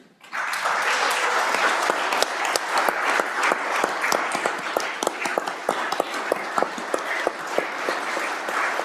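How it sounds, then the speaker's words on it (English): A crowd in a legislative house floor session breaks into sustained applause, dense clapping that starts abruptly and continues evenly for several seconds. "give him a round of applause"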